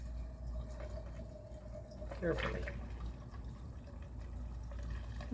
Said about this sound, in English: take a funnel, pop it in the top of my canister here, and I'm just going to pour this back in here